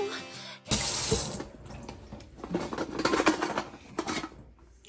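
Water gushes from a kitchen tap as dishes are rinsed. A loud rush at the start settles into a steady, uneven splashing stream with faint clinks of dishware.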